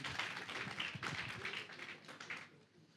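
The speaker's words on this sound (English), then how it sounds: "let's give him a round of applause" Audience applause greets a speaker at a National Heritage Council commemoration, a moderate spread of clapping that holds steady and then fades out within a few seconds.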